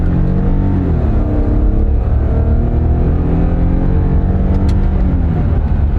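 A car accelerates hard at full throttle down a small drag strip, its engine roaring loud and close with the pitch climbing steadily, no speech over it.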